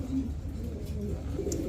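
Blue bar beauty pigeons at a pigeon farm give soft, low cooing that murmurs steadily through the short stretch, close by and moderately quiet, with no voices.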